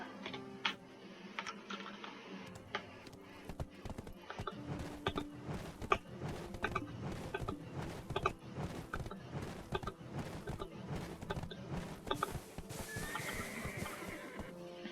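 A horse neighs in the video game Black Desert Online amid rapid, constant clicking and tapping of a computer keyboard and mouse.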